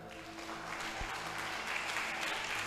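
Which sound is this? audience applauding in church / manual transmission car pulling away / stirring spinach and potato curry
audience applauding in church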